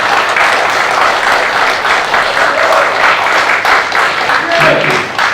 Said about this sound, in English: if everybody would give them applause for them attending